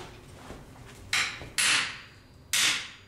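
A chisel tapped from behind along marked lines on a metal dragon knocker, three sharp, bright strikes close by at uneven intervals, each ringing briefly before fading.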